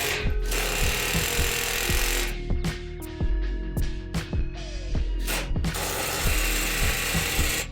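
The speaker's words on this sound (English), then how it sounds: "All right, so I'm gonna use an air hammer." A pneumatic air hammer rapidly knocks tabs into place on a BMW E90 rear differential during an output shaft seal job, giving a loud, steady metallic rattling with sharp repeated impacts and brief pauses.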